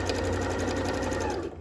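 A sewing machine stitches a straight line while sewing elastic into a pair of pants, a steady, fast, loud mechanical whirr with a rapid needle rhythm heard up close. It runs without pause and slows slightly just at the end.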